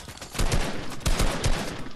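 A video game SMG fires several rapid bursts, each a quick cluster of sharp, booming shots that repeat in a short, uneven rhythm.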